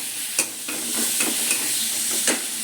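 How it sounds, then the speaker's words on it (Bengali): Tomatoes frying in a pan and being stirred, a continuous bright sizzle close by, broken by several soft scraping strokes of the spoon. "এরপর ভালো করে নাড়ছি"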